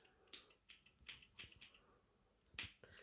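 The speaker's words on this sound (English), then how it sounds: "Take your little pair of scissors" Small scissors make a series of sharp, crisp snips while trimming a fluffy dog's facial hair near the eye, about six close clicks spaced irregularly in quiet surroundings.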